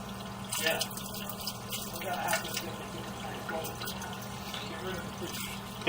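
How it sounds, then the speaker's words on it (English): Water runs from a shower and tub down into a drain, captured inside the PVC sewer line as a steady rushing wash with splashy surges, while people talk over it. "I got the shower running back here."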